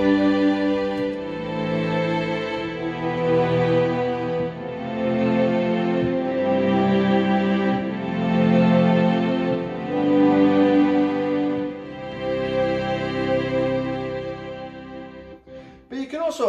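Strings voice on a Yamaha CLP-785 digital piano plays slow, swelling sustained chords that rise and fall in loudness, ending with a brief noisy break at the close.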